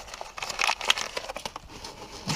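Paper crinkles and tears softly in short, uneven bursts as it is peeled off a Rover 75 rear suspension arm, close by and fairly quiet.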